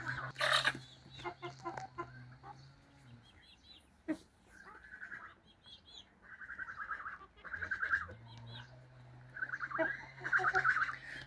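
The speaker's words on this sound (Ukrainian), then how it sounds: "великі замашні курки" Large-breed hens cluck in short, scattered bursts at a farm, close and fairly quiet, with pauses between calls over a low background hum.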